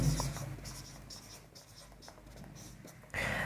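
Tally marks written by hand in a frequency-distribution lesson make soft, brief scratchy strokes, faint and close, over low background noise, with a voice heard at the start and end.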